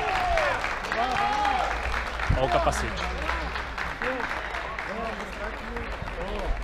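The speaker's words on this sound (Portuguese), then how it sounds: "Muitos aplausos." Crowd applause and stadium murmur at a Cruzeiro football match, a continuous wash of clapping and chatter under a commentator speaking throughout, with a brief sharp thump partway through.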